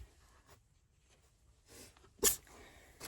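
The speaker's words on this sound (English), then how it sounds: "Am I moving things around and it's making you sneeze?" A single small, sharp sneeze from a cat bursts out amid quiet room noise, preceded by faint rustling and soft breathing.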